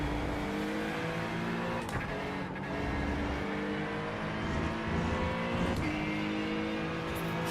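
A Mazda MX-5 race car engine in iRacing at Mugello, running as a continuous loud drone that rises and falls through the gears, with brief dips where the driver shifts.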